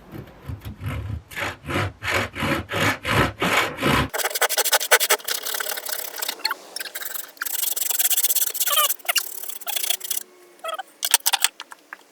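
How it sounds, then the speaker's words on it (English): A Leatherman multitool hand saw cuts thin wood strips in quick, regular back-and-forth rasping strokes, close and loud, followed by rougher, irregular sawing and scraping. "the Leatherman saw actually works way better than the big saw"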